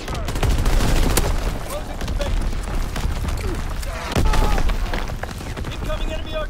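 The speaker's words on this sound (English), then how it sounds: "Firing division artillery." Division artillery fires in a multiplayer war video game, a dense, loud barrage of booming shots and gunfire rolling continuously with a heavier burst partway through, while voices talk over it.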